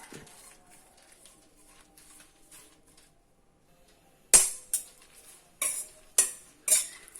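Curry leaves, ginger and coconut dry roasting in a pan with no oil, quiet sizzle broken by several loud sharp pops and crackles in the second half, close by.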